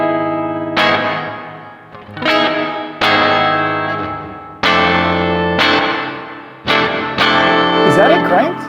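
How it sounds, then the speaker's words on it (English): Electric guitar through a 1995 Zoom Fire 7010 amp and effects processor with reverb and mix turned up high, played as a series of loud distorted strummed chords, each ringing out into a long washy tail. "So let's turn up the reverb pretty high."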